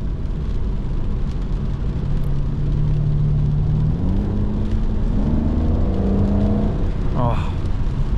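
A low, steady Aston Martin DBS engine burble idling and rolling at low revs, with a brief rise in pitch near the end, heard from inside the car.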